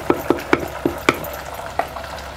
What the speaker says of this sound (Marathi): आता आपण सगळे एकजीव करून घेतलेले आहे